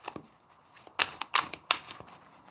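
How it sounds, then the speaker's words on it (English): Cards being shuffled close by in several quick riffling bursts, with short pauses and light taps between them, fairly quiet overall. "Let's start to shuffle our cards."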